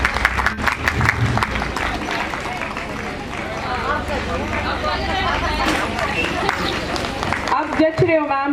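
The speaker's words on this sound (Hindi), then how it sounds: "एक बार जोरदार तालियां।" Applause rings out at the retirement ceremony of Promila Yadav, a steady mass of clapping that keeps going under lively crowd chatter and voices.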